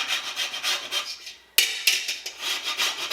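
Whole nutmeg rasped against a grater in steady repeated strokes, close and fairly loud, with a brief pause midway before the scraping resumes.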